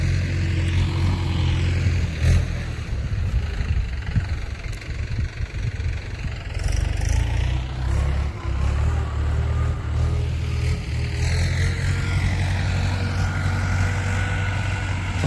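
A farm tractor engine runs steadily in a field, a loud continuous low drone with a near, unbroken rumble throughout and no voices.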